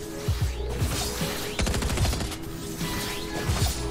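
Bursts of gunfire from a PS5 shooter game in a duo cash cup match, with a dense rapid volley in the middle among scattered single shots, set against steady game background sound.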